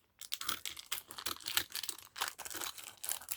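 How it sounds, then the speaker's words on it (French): Scissors cut into crinkly parcel packaging, producing dense, irregular bursts of rustling, crunching and snipping that come up close and continue almost without pause. "Alors, je vais reprendre mes ciseaux."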